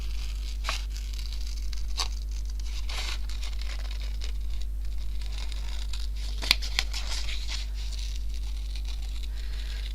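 Paper crinkles and rustles with a few sharp snips of scissors cutting through it, close by and fairly quiet over a steady low hum.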